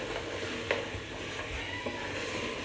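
Onion-tomato masala with goat meat sizzles gently in a pot for shorba, with soft steady frying and a few light stirring knocks, faint and close, with no talking.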